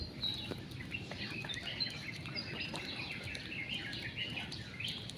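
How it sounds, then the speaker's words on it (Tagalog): Several birds chirp and tweet in the distance over a soft background hush, their short calls scattered throughout. "Naririnig ng ibon."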